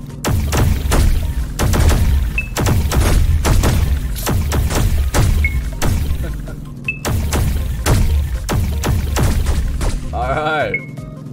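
Rapid bursts of gunfire and heavy thuds from the Rocket Bot Royale video game, loud and near, repeating in quick volleys with a few short electronic tones between them.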